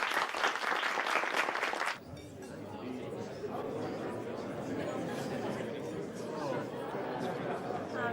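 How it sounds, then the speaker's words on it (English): Audience applause and crowd chatter greet a young pianist at a reception held by the Soviet Friendship Society; a dense burst of clapping fills the opening seconds, then gives way to a steady murmur of voices. "we applaud you"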